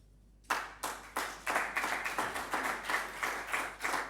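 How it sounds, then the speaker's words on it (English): A small convention panel audience claps after a speaker's remark at a capital markets event, starting abruptly after a brief quiet and continuing as a loose series of bursts of hand claps, moderately near. "That gets applause"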